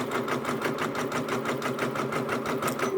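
Multi-needle embroidery machine stitching at a steady rapid pace, its needle bar chattering in an even, continuous rhythm with a mechanical hum underneath, close and unbroken.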